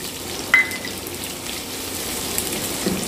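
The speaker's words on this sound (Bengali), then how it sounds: "পেঁয়াজটা এবার একটু লাল করে ভেজে নেব।" Finely chopped onions sizzle softly in hot oil, a steady low crackle broken by one brief metallic clink near the start.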